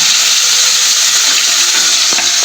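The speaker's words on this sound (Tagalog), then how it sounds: "Nagluluto kasi ako nagpiprito ng isda." Loud, steady sizzling of fish frying in hot oil, a dense bright hiss with occasional pops and crackles.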